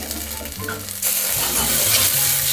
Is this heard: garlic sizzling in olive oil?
yes